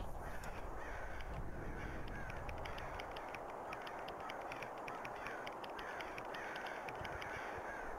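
Crows caw repeatedly through a steady ambient wash of wind and outdoor game atmosphere in the video game Scanner Sombre, the calls moderately distant and overlapping, with no talking.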